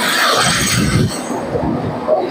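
Crowded Budge Budge local train pulling into Majerhat station platform, loud rumbling wheels and carriage noise close by with a faint squeal, no voices.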